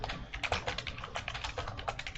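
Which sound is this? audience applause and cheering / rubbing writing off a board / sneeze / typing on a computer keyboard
typing on a computer keyboard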